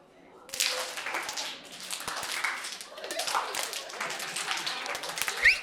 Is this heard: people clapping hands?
yes